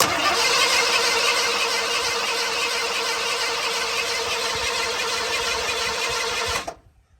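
Carbureted car engine being bumped with the starter, a continuous loud grinding crank and churn that runs for several seconds and then cuts off abruptly into near silence.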